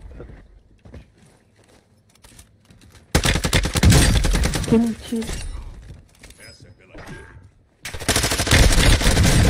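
Gunfire in an online shooter game, loud bursts of rapid shots after a quieter stretch, with excited players talking over it throughout.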